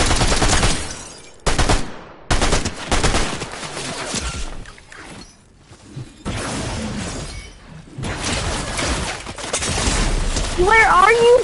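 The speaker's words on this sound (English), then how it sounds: "I'm getting shot crazy. Who's shooting me so crazy?" Fortnite gunfire in bursts of rapid, loud shots with sharp breaks between them, mixed with game sounds and a player talking over the action.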